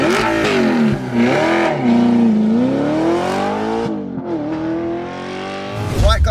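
A tuned Audi R8 with a V8 and manual gearbox revs loudly and close by, its engine note climbing and falling through several swells before a sharp final burst.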